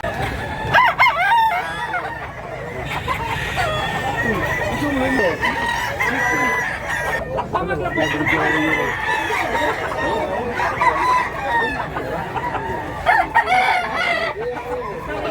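A bullstag rooster crows repeatedly at a poultry sale in Mantalungon, Cebu, its calls rising over other fowl and steady people's chatter close by.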